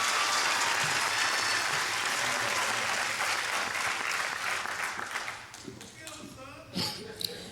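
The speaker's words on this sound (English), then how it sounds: "Y'all give him a round of applause." A crowd at a high school graduation ceremony applauds loudly with dense clapping that gradually thins out, leaving a few scattered claps and murmurs at the end.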